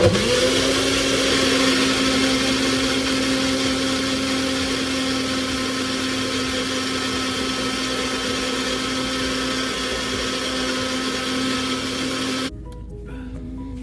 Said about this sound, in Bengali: আমি প্রথমে একটু ড্রাই থাকতেই ঘুরিয়ে গুঁড়ো করে নিই